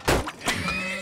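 A horse neighs in a video game, one loud whinny followed by a second shorter, higher neigh that trails off into a thin tonal tail.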